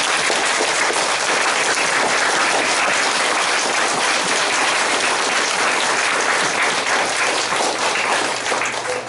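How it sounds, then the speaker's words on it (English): Audience applauding candidates at a meeting for Massachusetts state representative, a dense, steady round of clapping from a full room that fills the whole stretch at even loudness. "Let's give them a big round of applause."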